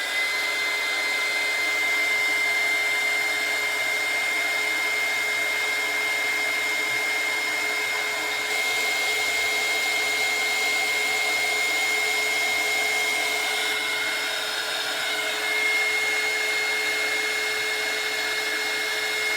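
A hair dryer blows steadily and close to dry a layer of paint on a handmade doll, a continuous whooshing hum with a faint whine and no talking.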